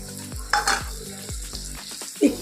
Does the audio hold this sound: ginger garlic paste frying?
yes